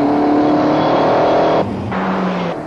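A Peugeot 505 GTI engine in an old advert, running loud and close with a strong steady tone that drops suddenly partway through, then settles to a lower hum with a brief rise near the end.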